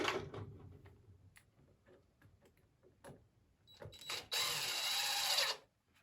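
A power drill drives 2.5 inch self-starting screws into freshly sawn poplar lumber, with quiet taps and handling clicks leading up to a short, loud, high-pitched whine of the drill near the end before it stops.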